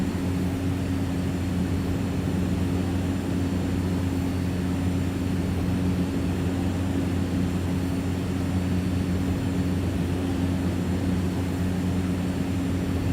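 A Cessna 208 single-engine propeller plane in the X-Plane flight simulator drones steadily and loudly throughout, a constant engine hum with strong low tones and no talking.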